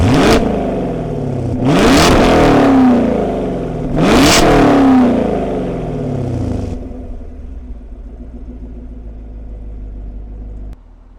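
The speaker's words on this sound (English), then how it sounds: "We're gonna rev this up and just enjoy." A 2018 Chevrolet Camaro SS coupe with a 6-speed revs hard outdoors in three loud, rising blips that fall back each time, then settles into a low, steady idle rumble that cuts off near the end.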